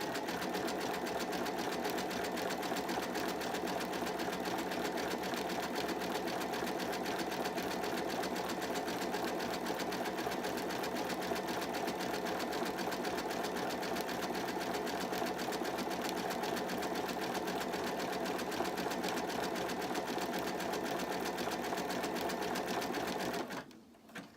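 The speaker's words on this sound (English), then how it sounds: "I'm covering up the line that we actually drew with our sewing machine earlier." A sewing machine stitching appliqué hums in a steady, fast continuous whir for a long stretch close by, then abruptly stops at the very end.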